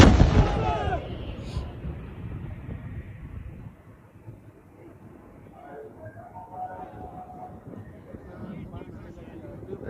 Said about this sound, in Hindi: पाकिस्तान यहां तक तोप के गोले तालिबान पर दाग रहा है.